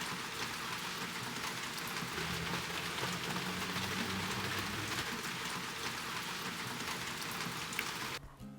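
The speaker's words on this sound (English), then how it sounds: "It's pouring down with rain now" Heavy rain pours steadily, a dense, unbroken hiss of drops on surfaces, constant and loud, ending abruptly.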